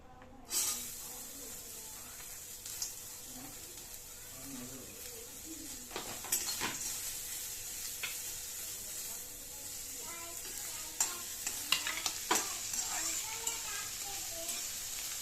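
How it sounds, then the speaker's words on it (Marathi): Chopped onion sizzling and frying in a pan for a spicy stone-pot sandangi curry, with a steady hiss and scattered scraping clicks of stirring up close, and a few faint background sounds. "आता कांदा परतायला टाकू."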